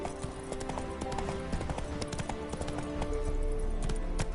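Roach, the horse in the video game Witcher 3, trots with a rapid, steady clip-clop of hooves over a continuous game soundscape, close and even in level throughout.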